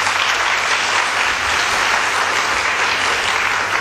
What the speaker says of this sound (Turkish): alkış bu kadar az geliyor